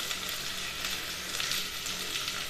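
Shallots, onion and green chilli sautéing in a pan for a Kerala-style squid roast, a steady close sizzle with soft crackling and faint stirring, no voices.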